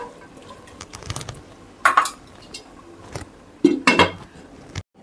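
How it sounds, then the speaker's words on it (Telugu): A metal lid clanks onto a pot of vegetables sizzling in oil for veg pulao, two sharp, close metallic clinks with a faint sizzle and scrape between them. "మనమైతే ఇప్పుడు మూత పెట్టుకొని అయితే వీటిని కొంచెం సేపు అయితే మగ్గించుకుందాం"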